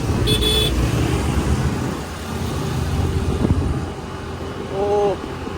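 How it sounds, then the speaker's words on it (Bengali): Road traffic in a jam: a continuous rumble of nearby engines with a couple of short car horn toots rising above the idling noise. "রাস্তার জ্যামটা চেক করা যায়"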